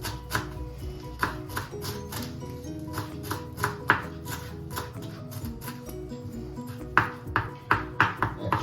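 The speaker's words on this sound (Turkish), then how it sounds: "Yine bunu da salata formatında doğrayacağız" A knife taps quickly against a cutting board in uneven bursts of chopping parsley, close by, with a soft low hum underneath.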